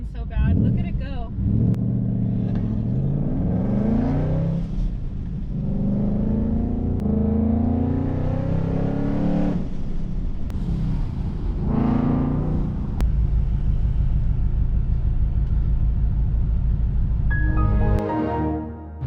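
A new Chevrolet Corvette ZR1 on the road: a loud engine drone with rising and falling pitch sweeps as it revs, then a deep steady rumble, mixed with people talking nearby.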